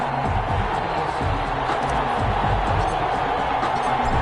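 Stadium crowd noise from a PS4 NFL football game between the Chicago Bears and Detroit Lions, a steady, dense roar of cheering that holds at an even level throughout with no break.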